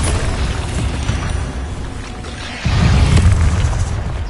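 A Bombarda explosion spell from the video game Hogwarts Legacy goes off as a loud, rumbling boom, with a heavy low burst partway through over continuous game noise.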